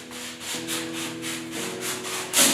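Wooden dowels rubbed and pushed into holes of a cardboard cat house, a continuous close scraping, rubbing sound with a slightly louder squeak near the end.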